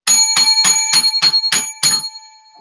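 A small bright bell is struck seven times in quick, even succession for good luck, each ring loud and close with a clear ringing tone that fades out after the last strike.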